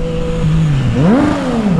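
A motorcycle engine idles, then revs up sharply and drops back down in one loud, close throttle blip.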